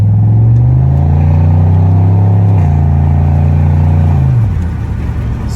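A car with a 500–600 horsepower transmission setup pulls hard up a street, its engine droning loudly and rising in pitch, briefly dipping at a shift, then fading as it eases off.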